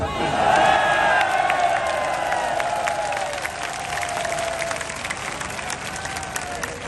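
A political rally crowd in Kasur, Punjab, breaking into loud applause mixed with cheers and whoops, a dense roar of clapping that peaks early and stays strong, with shouted voices rising above it.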